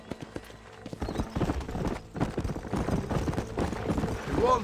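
Hooves clip-clop in a rapid gallop rhythm in Red Dead Redemption on PC, loud and steady over a game music score, with a brief horse whinny near the end and game voices speaking.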